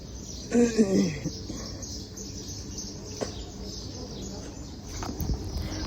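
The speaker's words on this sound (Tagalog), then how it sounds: "Daming ibon." Small birds chirp briefly and fairly close in an outdoor courtyard at Al Seef Village Mall in Abu Dhabi, a short cluster of calls early on, then sparse faint tweets over a low ambient hum.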